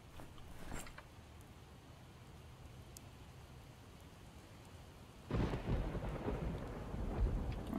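Thunderstorm in the zombie survival game Project Zomboid: steady rain hiss with a sharp thunder crack early on, then a loud rolling rumble of thunder and heavier downpour surging in the second half.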